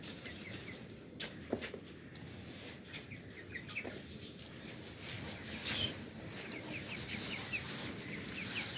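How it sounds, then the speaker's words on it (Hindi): Chickens in a Pakistani village yard cluck and call steadily while being fed grain, with scattered short calls over a continuous busy murmur of the flock, fairly close. "मुर्गियों को डालते हैं जी दाना"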